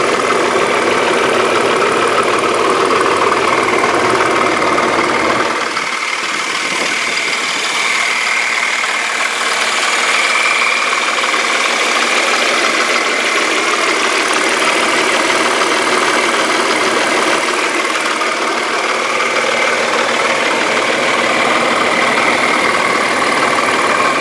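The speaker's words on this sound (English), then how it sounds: "That's the V6 motor in this thing, which is nice to have." A 2000 VW Passat's 2.8-liter V6 idles steadily and close by with a smooth, even hum throughout, with no voices over it.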